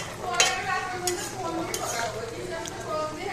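Pieces of Padma hilsa fish, lightly coated in spice, fry in a pan, giving a soft sizzle with scraping stirs and clinks while someone talks over it.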